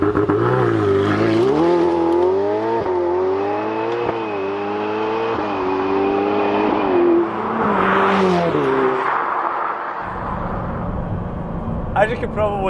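A 700+ bhp Ferrari 488 Pista V8 turbo accelerates hard from inside the cabin, its engine note climbing repeatedly and dropping at quick, aggressive gear changes, loud throughout before easing off near the end.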